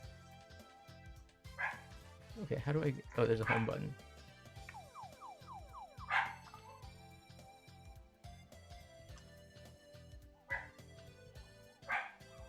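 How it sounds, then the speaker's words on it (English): Dogs bark and yip intermittently in the background, some high whimpering calls, while a person talks nearby in a quiet room. "There's dogs barking in the background."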